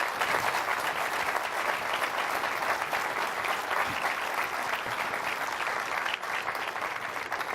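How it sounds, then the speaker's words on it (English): A conference audience at the Manning Conference 2016 gives a journalist panel a long, steady round of applause, a loud, dense wash of clapping that holds evenly throughout with no talk. "if we could have a round of applause for our journalists"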